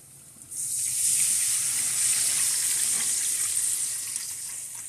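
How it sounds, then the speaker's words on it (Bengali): Water poured into hot spice masala for a hilsa fish curry gravy bursts into a loud, steady sizzle and hiss that starts abruptly about half a second in and holds for several seconds before easing slightly. "এবার আমি এই মশলাতেই ঝোলের জন্য পানি দিয়ে দিব।"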